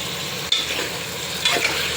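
Egg curry being stirred in a pan, a steady scraping swirl over a soft sizzle, with two sharper utensil knocks against the pan.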